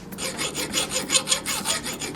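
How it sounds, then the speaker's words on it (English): A metal file rasps in steady back-and-forth strokes against the barrel end of a Honda CX500 motorcycle control cable, about a dozen close, evenly paced scrapes with no talking. "So what I'm going to need to do here is file it down and then drill a new hole to pass the cable through."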